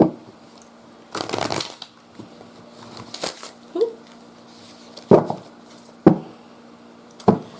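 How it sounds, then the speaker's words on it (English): Tarot cards being shuffled by hand close up, a few quick riffling bursts followed by sharp slaps and taps as the deck is squared, with quiet gaps in between. "the Allison Tarot. And pull some cards for Mina."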